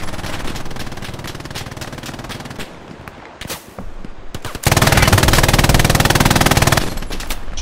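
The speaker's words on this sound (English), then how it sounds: "that tank just hammered me" Intense gunfire in a war video game set on Omaha Beach, with rapid machine-gun bursts throughout and a loud, dense barrage of shots and blasts near the end, all close and very loud.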